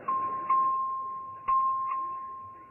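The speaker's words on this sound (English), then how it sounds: "Clerk will ring the bell." A clerk's bell rings for a record vote in a legislative chamber, sounding a steady electric tone with several struck accents, each fading slowly, throughout the clip, with no talking.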